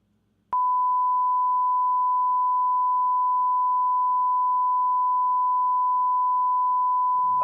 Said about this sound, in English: Just going to use some test tones